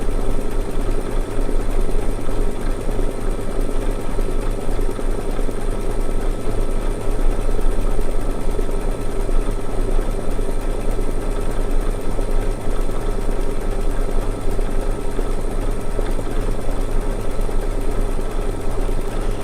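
An embroidery machine sews an outline stitch around a large flower design, a steady, dense mechanical chatter that runs close and unbroken from start to finish with no pauses.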